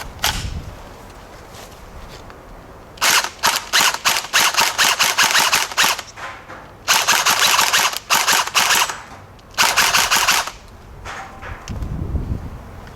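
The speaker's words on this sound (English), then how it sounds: "Now for the shooting demo, we're just going to start semi." A CP AKA AK74M gel blaster fires semi-auto in loud, rapid, closely spaced bursts of sharp cracking shots, separated by short pauses, with no talk over them.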